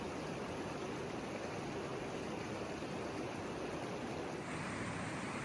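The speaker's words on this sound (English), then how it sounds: "This should be a nice relaxing night, listening to the water." River water flows beside a campsite in a continuous, even rush of broadband noise, steady and fairly quiet throughout, with no voices.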